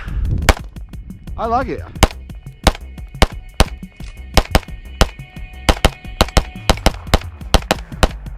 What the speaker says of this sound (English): So I was trying to get a couple shots there to see if you can see the compensator doing its thing.